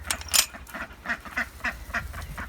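A series of short duck quacks repeats at an even pace, close by, with no voices.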